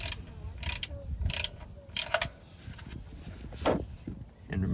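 Several quick ratchet clicks in short bursts, close and fairly quiet, as a wrench breaks loose the oil drain bolt underneath a 2003-2008 Toyota Corolla.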